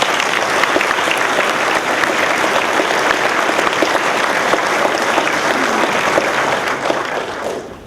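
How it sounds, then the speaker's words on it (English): A large crowd in a high school venue gives sustained, dense applause at a flag act bill signing, a loud continuous wash of many hands that fades slightly at the very end. "Let's give them a round of applause."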